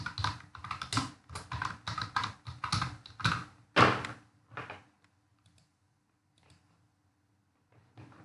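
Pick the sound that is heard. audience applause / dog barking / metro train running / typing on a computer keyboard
typing on a computer keyboard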